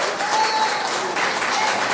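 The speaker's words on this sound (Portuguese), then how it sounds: "Você pode dar mais um aplauso em volta de Jesus" Church congregation applauding during a Portuguese-language worship service, a dense, steady wash of many hands clapping at close range for the full two seconds.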